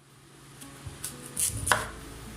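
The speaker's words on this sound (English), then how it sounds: "Chop the onion, green chillies, tomato, curry leaves and some coriander leaves." Onion, green chillies, tomato, curry leaves and coriander are chopped for a Sri Lankan puttu dish, with a few close, crisp knife strikes on a board that get louder toward the end.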